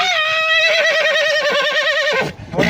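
A farm horse lets out a long, loud, close whinny with a quavering, wavering pitch that falls away near the end, followed by a brief snort.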